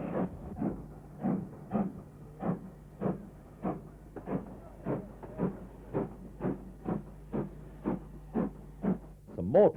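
Jubilee class steam locomotive 45682 Trafalgar pulls out of Birmingham New Street, its exhaust beats chuffing in a slow, even rhythm, about a dozen strong blasts rising over a low steady hum.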